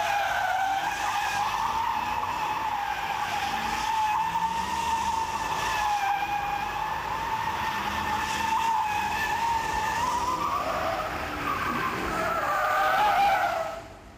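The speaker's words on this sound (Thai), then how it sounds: "อันนี้เป็นการโดนัทนะครับ" A car spins donuts on a wide open lot, its tires skidding and squealing in one long, loud, wavering screech under steady engine roar, swelling near the end before cutting off.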